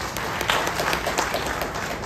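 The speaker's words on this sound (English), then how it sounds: "Can we clap for all those people again?" Audience applause at a poultry farmers' welfare committee meeting, a steady, dense wash of clapping from a crowd lasting about two seconds with no talk over it.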